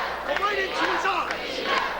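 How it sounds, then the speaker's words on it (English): A wrestling event crowd roars and cheers in a continuous, reverberant wash of voices, with a few louder shouts rising out of it. "And you can hear the crowd."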